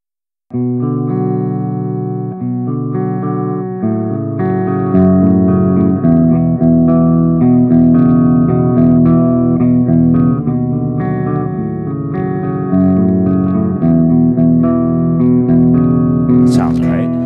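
A distorted electric guitar plays a heavy, repeating riff with sustained chords, loud and continuous, with a brief sharp noise at the end.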